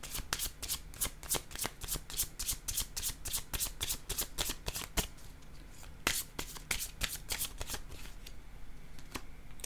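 Yellow playing cards are riffled and shuffled repeatedly up close, a rapid run of crisp flicking bursts in quick rhythm, soft and alone with no talking.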